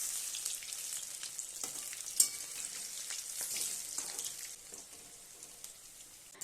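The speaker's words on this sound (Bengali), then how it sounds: "আর মিডিয়াম টু হাই ফ্লেমে বড়াগুলোকে ভালো করে ভেজে নেব।" Small shrimp fritters deep-fry in oil over a medium-high flame, giving a steady close sizzle full of fine crackles and one sharper pop, then easing slightly toward the end, with no talking.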